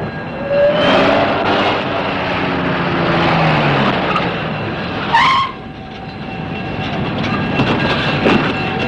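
A train approaching and pulling into a station, a steady rumbling roll with a rising squeal of brakes partway through, then continued rolling noise at a fairly close distance.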